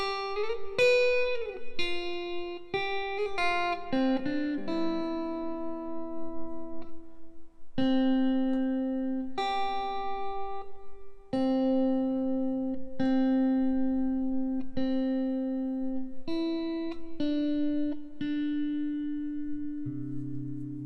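A clean melody of single plucked notes plays over a sustained chord progression, each note decaying before the next, moderately loud and alone.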